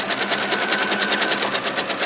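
A sewing machine stitches binding onto a quilt, a fast, even run of needle strokes chattering close by at a steady rhythm, with no talking.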